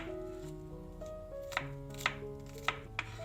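Knife chopping onions on a board, a few sharp, separate cuts with uneven gaps, set against a steady background of sustained musical tones and no voices.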